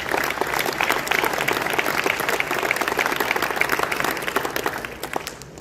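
A crowd at a police memorial event in a mall applauds steadily for several seconds, dense clapping that stays loud and then tapers off at the end.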